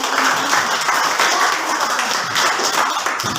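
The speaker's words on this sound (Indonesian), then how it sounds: "Tepuk tangan dulu untuk si Adit" A classroom of students claps together for a classmate during a mathematics lesson on linear programming, a loud, busy burst of hands kept up at an even level from start to finish.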